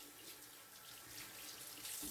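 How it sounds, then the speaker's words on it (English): Steady stream of water runs from a bathroom sink tap while a hand is rinsed clean of shaving lather, a constant close splashing hiss that holds for two seconds with no talking. "just rinsing off my hand here"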